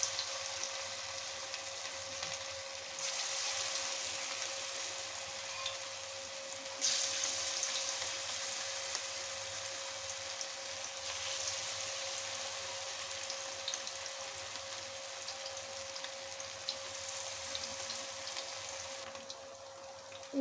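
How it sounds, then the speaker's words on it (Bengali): Battered cauliflower pakoras frying in hot oil over a medium flame give a steady, even sizzle and crackle that carries on alone for the whole stretch without any talking. "কোট করে রাখা ফুলকপিগুলো তেলের মধ্যে ছেড়ে দেবো।"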